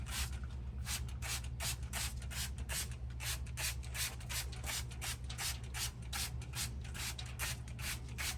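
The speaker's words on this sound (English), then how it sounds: "spray them with some apple cider vinegar" Apple cider vinegar misted from a spray bottle onto smoked ribs with a hard, firm bark, heard as a steady run of short, close spritzes in quick regular rhythm over a low, constant background hum.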